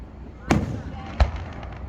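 Two 4th of July fireworks mortar shells burst one after the other at a distance, each a sharp boom that fades quickly. Crowd noise fills the background.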